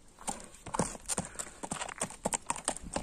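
Horse hooves clip-clop in an uneven, steady rhythm on hard ground, fairly close, with no voices.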